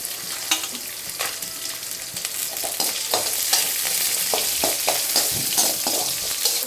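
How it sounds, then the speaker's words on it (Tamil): Onions sautéed in a pan with garlic for a thuvaiyal, a continuous sizzle broken by repeated scraping and stirring strokes of a ladle, close and fairly loud, with no speech. "அடுத்து வெங்காயம் கொஞ்சம் நல்லா வதக்கிடணும்"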